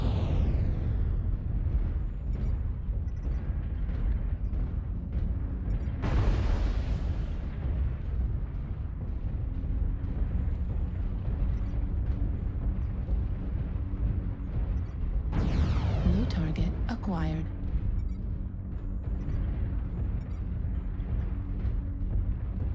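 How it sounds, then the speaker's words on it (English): Artillery strike explosions in MechWarrior Online rumble in a sustained, loud roar, with two sharp blasts standing out over the constant low battle noise. "Artillery strike online."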